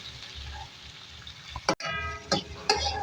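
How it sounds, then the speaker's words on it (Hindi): Chopped medium-sized onions fry in a pan, softening but not yet golden, giving a steady low sizzle with a few brief clatters and scrapes of stirring, while a voice talks over it. "देखिए नाज़रीन हमारी प्याज फ्राई हो रही है, अभी थोड़ी सी नरम हुई है"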